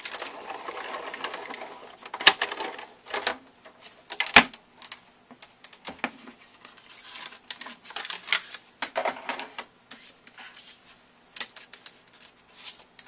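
A Sizzix die-cutting machine cranks a card sandwiched between A and B plates, giving quiet, uneven mechanical clicking and rolling with a few sharper knocks.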